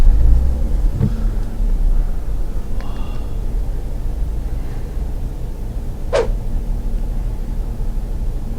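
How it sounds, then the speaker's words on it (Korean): A Kia Carnival gasoline engine idles steadily inside the cabin as a low, even hum, with a couple of faint brief clicks and a short whistle-like tone over it. "지금 차량은 가솔린 차량입니다. 시동을 켠 상태고요."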